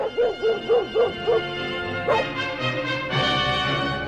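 A dog, styled as a radio-show wonder dog, gives a run of five quick yips close up, then a pause and two louder barks with whimpering tails, over a faint background.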